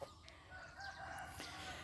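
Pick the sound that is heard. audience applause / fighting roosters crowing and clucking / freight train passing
fighting roosters crowing and clucking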